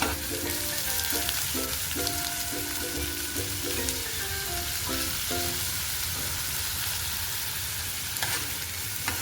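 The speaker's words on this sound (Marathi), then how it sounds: "आता आपल्याला कांदा आणि मिरची एकत्र टाकायची आहे।" Chopped onion and green chili fry together in oil for a tomato curry, a continuous close sizzle with crackles running under soft background music.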